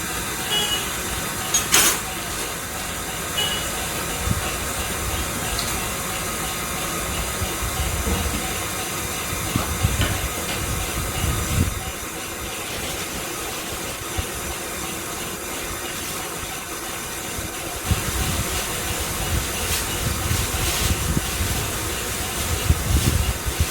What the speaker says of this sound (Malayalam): അപ്പോൾ ഞാനത് ജസ്റ്റ് ചെറുതായിട്ടൊന്ന് ബീറ്റ് ചെയ്യാൻ പോകുന്നു.